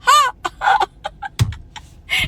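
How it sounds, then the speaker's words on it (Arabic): A rooster clucks in short, close bursts searching for a hen, the calls broken by brief gaps and a single sharp knock partway through. "ديج يدور على دجاجة."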